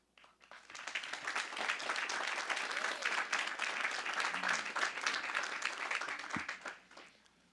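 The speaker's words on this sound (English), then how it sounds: "They all deserve a round of applause" Graduation audience at a 2019 Cheshire High School ceremony bursts into applause, swelling quickly into a dense, sustained roar of clapping from a large crowd, then tapering off near the end.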